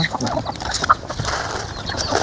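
Chickens cluck softly and intermittently nearby at feeding time, with scattered short calls and light rustling in the background.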